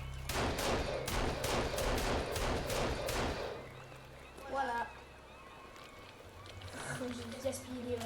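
A rapid burst of about ten pistol shots in the Sons of the Forest video game, evenly spaced over three seconds, followed by quieter game ambience and a brief spoken word.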